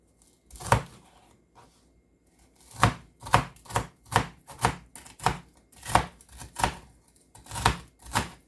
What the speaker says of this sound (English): I'm going to cut up 2 celery stalks, chopped.